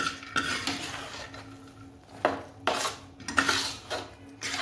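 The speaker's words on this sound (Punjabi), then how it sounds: "ਇਹਨਾਂ ਨੂੰ ਆਪਾਂ ਚੰਗੀ ਤਰ੍ਹਾਂ ਆਟੇ ਨੂੰ ਭੁੰਨਣਾ ਵਾ" Flour roasts in ghee in a pan for panjiri while a metal spoon stirs and scrapes it, sending out repeated clinks and scrapes over a soft sizzle. The strokes come in irregular bursts, close by and moderately loud.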